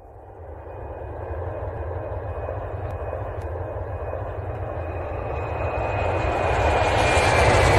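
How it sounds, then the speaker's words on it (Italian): An airplane takes off with a steady, broad engine roar that grows gradually louder over several seconds, heard alone without voices. "L'aereo è partito"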